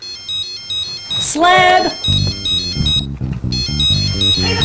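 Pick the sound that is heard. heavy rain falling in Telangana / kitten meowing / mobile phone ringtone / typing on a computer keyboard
mobile phone ringtone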